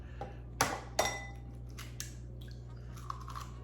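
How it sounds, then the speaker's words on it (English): Eggs cracked into a bowl for Tex-Mex migas: two sharp cracking taps close together, followed by faint shell crackles and small clinks against a low steady hum, with no talking. "I'm just going to crack it into this bowl right here"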